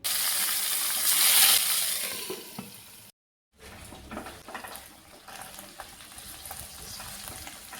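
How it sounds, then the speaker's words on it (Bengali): Hilsa fish paturi, parcels of hilsa, fry in hot mustard oil in a wok, a loud bright sizzle that fades, cuts out briefly, then returns softer with crackles and occasional clinks of stirring. "কড়াই গরম করে তাতে সর্ষের তেল দিয়ে পাতুরিগুলো ভালো করে ভেজে নেব"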